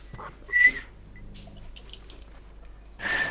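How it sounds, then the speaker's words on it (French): A young child whistles in two short, bright bursts, one near the start and one at the end, with quiet game sounds and faint background noise in between. "Arrête de siffler"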